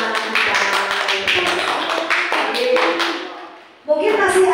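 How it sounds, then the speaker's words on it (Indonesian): Classroom of sixth-grade children clapping together in loud, rapid applause that runs steadily for a few seconds, drops briefly, then swells again near the end. "Tepuk tangan untuk anak-anak kita."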